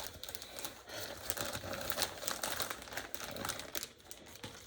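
A plastic bag crinkles and rustles continuously at close range, being handled while it is emptied during cross stitch organizing, with dense crackling bursts throughout and no talk.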